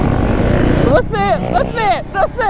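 A small two-stroke supermoto motorcycle engine buzzes close by, first a steady drone and then a few quick revs that rise and fall sharply.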